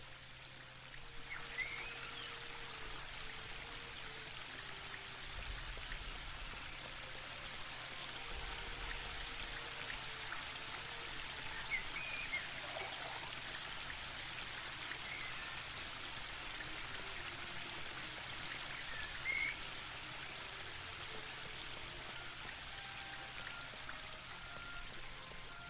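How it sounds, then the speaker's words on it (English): Fresh water poured into a bird bath in the Book of Unwritten Tales 2 video game, a faint steady trickling splash running throughout beneath soft background music. "Right then, fresh water for the bird bath."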